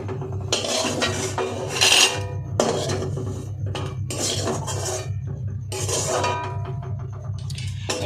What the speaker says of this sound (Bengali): এই বাটিতে নামিয়ে নিলাম ভাজা পেঁয়াজগুলো।